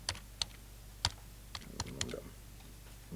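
Typing on a computer keyboard: sparse, irregular keystrokes, a few sharp isolated clicks with short pauses between them, close and clear over a faint steady hum, with no voices.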